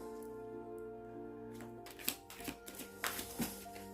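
Tarot cards handled quietly against a steady humming background, starting faint before a few sharp riffles and slaps of shuffling, close by but soft.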